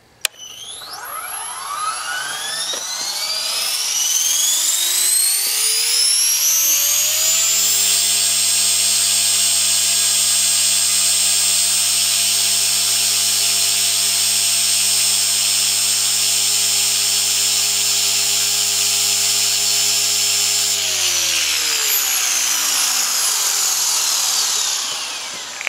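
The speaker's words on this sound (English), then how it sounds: "Spool up the heli." RC helicopter spooling up at 80% throttle: a rising whine with stacked harmonic tones climbs over about seven seconds, holds steady and loud, then winds down near the end.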